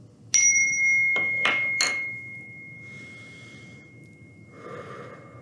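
A small bell is struck once close up and rings out in a long, clear, sustained tone, overlaid by a few loud breaths and faint breathing sounds as it fades.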